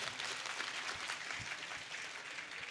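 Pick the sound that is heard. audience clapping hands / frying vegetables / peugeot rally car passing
audience clapping hands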